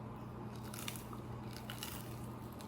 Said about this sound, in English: Ooh, we want to hear that crunch, right? Let's hear the crunch.